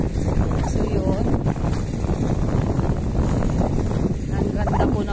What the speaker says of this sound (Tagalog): Malakas po kasi ang ano, ang hangin.